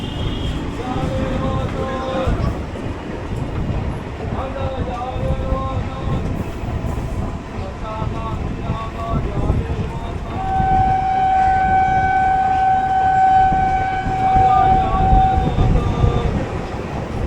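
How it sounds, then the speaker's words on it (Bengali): A local train rolls toward Sealdah after leaving Bidhannagar, a continuous loud rail rumble with a long sustained horn tone sounding in the latter half. "শিয়ালদার দিকে চলছে ট্রেনটা এবার।"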